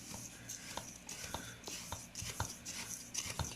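A dry rub of spices finished with celery seed is mixed in a bowl. Short scraping and tapping strokes come close and fairly quiet at an uneven pace.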